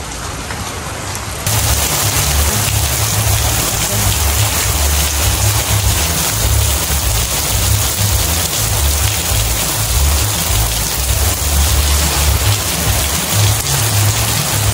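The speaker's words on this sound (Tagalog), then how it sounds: "Grabe po kalakas ang ulan ngayon dito sa amin." Heavy rain pours down in a dense, loud, continuous roar, drumming hard on a surface nearby for the whole stretch with no voices.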